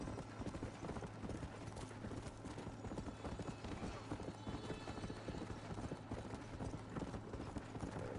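Horse hooves clip-clopping in a steady rapid rhythm through the Red Dead Redemption video game, continuous and fairly loud over dense game ambience, with a brief whinny possible.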